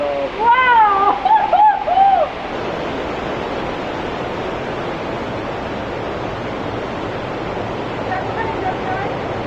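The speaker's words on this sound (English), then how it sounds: "So this is a waterfall." Waterfall in a garden setting in Estepona, a loud continuous rush of falling water that holds steady throughout, with a voice exclaiming over it during the first couple of seconds.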